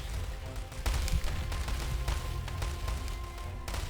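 Machine gun fire from gunners in a WWII-era strategy war game, a dense crackle of rapid shots with scattered louder bursts over a steady low battle rumble, continuous across the scene.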